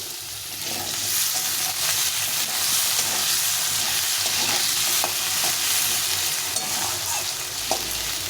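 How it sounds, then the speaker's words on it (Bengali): Small pieces of potato frying in a little oil in a home kitchen for a fish curry with elephant foot yam, giving a steady, dense sizzle across the whole clip with light stirring scrapes and a few brief clicks, with no voices. "এইভাবে করে রান্না করবো তো আলুটাকে ভেজে নিয়ে"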